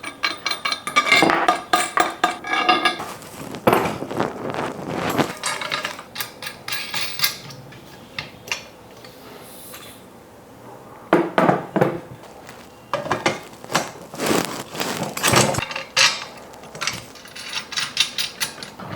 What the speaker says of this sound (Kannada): ಸೊ ಫಸ್ಟು 2 ನಟ್ಗಳನ್ನ ಲೂಸ್ ಮಾಡ್ಕೊಳ್ಬೇಕು.